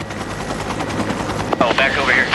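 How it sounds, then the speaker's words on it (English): A medical rescue helicopter flies over a rural highway crash scene, its rotor chop a loud steady thudding pulse with engine whine, while a voice talks over it. "The helicopter is such a great tool in this type of geographical area."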